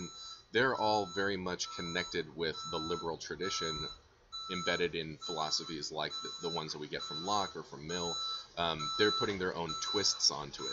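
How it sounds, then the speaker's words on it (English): A truck's reversing beeps repeat as a faint, steady high tone throughout, sitting beneath continuous close lecture speech. "Sorry for the beeping of this truck."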